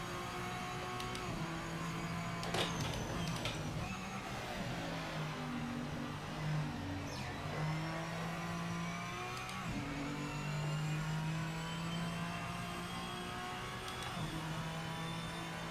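A slow N-GT race car's engine revs and shifts at night on the Nürburgring in Project Motor Racing, a steady close-up drone with rising and falling pitch sweeps and no talking.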